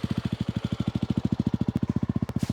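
A Jawa 350 motorcycle engine idles close by with a steady, fast, even low thump, each beat distinct and uniform throughout.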